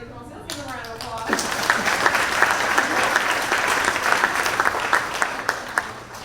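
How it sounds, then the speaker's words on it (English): An audience at a spring school band concert breaks into loud applause for the flute players, many hands clapping densely and steadily after a short moment of voices and low hum. "Let's give them a round of applause"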